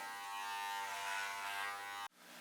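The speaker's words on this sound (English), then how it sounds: "to clean up the sides and back, I'm using the same clippers without the comb" Electric hair clippers with no comb attachment buzz steadily at close range while trimming the sides and back of a head. The hum runs for about two seconds and then cuts off abruptly.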